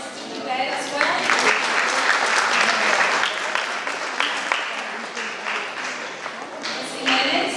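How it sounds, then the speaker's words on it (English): A loud, sustained round of applause from a crowd at a school STEM orientation, with dense clapping running the whole time and a few sharper claps standing out close by. "Give a round of applause to you guys as well"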